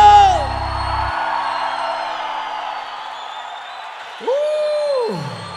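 Live crowd at a sertanejo-style viola concert whoops and cheers across a broad, steady roar of applause, a loud sustained burst that carries on over music with a held vocal note near the end.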